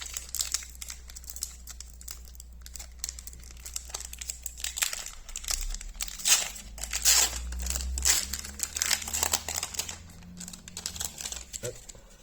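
Lorcana trading card booster pack wrappers crinkle and crumple up close in a series of bursts, louder in the second half, while a person talks over them now and then.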